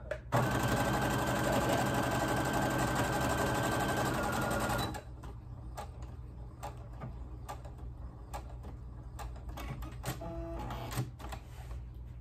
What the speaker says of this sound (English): So what I'm gonna do is sew it and go back.